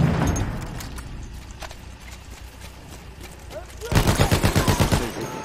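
Rapid automatic gunfire bursts out in the video game Battlefield 1, a loud rattling string of shots near the end after quieter scattered sounds, with players talking over voice chat.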